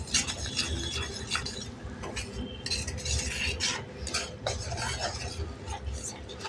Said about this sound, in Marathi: आपल्याला सतत असं बारीक गॅसवर रवा छान भाजून घ्यायचा आहे.